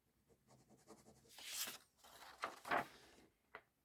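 A pen or pencil traces a line across cardboard for a gift box, faint close scratchy strokes in short bursts with a few louder scrapes and a final tap, quiet overall.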